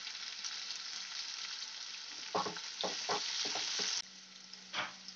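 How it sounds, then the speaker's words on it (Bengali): Sliced onion and split green chilies fry in hot oil for a banana stem posto, producing a constant close sizzle broken by several quick stirring scrapes and clatters, with no speech. "এগুলো আমি ভালোভাবে একটু ভেজে নেবো।"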